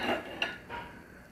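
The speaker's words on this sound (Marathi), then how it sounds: "आता झाकण काढून बघूया आपण." A lid comes off a pan of squid masala cooking on a stove with a faint scrape and one sharp metallic clink, quiet and close.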